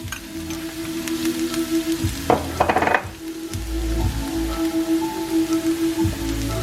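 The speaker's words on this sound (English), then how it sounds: "We've got our oil nice and hot. We're going to go in with the shallot, finely diced." Finely diced shallots and garlic go into hot oil, bursting into a loud, steady sizzle after a brief clatter, then settling into a continuous crackling fry with soft stirring, no voices.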